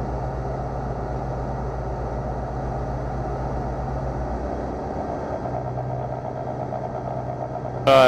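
Engine of a Pipistrel Alpha Trainer light aircraft idling steadily on the ground, a constant low drone that shifts pitch slightly partway through, with a brief sharp sound at the very end.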